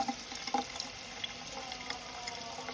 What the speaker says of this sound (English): we give them a good wash, a good rinse with the sprayer like that to get any bugs off